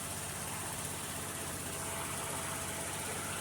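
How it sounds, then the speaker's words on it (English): A 2002 Ford Escape engine idles a little high, a steady close mechanical hum with a faint ticking knock running evenly throughout, no voices. "Woo, the idle's a little bit high though."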